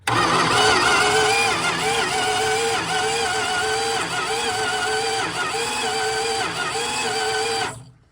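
An abandoned 1971 Plymouth Fury that sat for over twenty years cranks over on its starter, a steady rhythmic churning whir that does not catch, loud and close, running unbroken for about eight seconds before cutting off.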